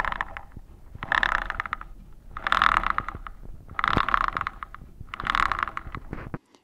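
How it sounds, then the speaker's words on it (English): A running motorcycle chain heard up close through a mechanic's stethoscope gives rhythmic mechanical clicking and whirring that surges in regular bursts roughly every second and a half, with quieter gaps between. "Okay, so now it's the sound of the chain."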